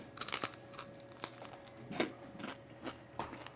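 Crunching bites into the crispy skin of a whole roast native lechon pig, heard as several quiet, close crackles and crunches in an irregular rhythm, with no talking.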